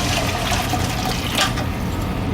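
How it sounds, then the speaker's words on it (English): Vegetable stock pours into a pot of pumpkin soup, a steady close-up rush of liquid filling the pot for about two seconds with no talk. "We're going to add our beautiful vegetable stock."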